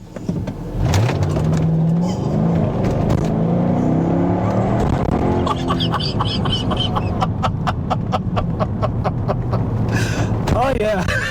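Mercedes SLK 55 AMG in sport mode pulls away hard, its engine rising loud and close through the gears with rapid rumbling pulses; a person talks over the engine noise.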